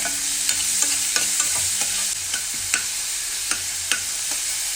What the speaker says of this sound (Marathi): त्याच कढईमध्ये आपण 2 मोठे कांदे बारीक चिरून घेतलेले टाकत आहोत